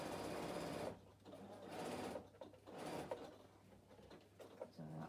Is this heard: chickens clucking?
no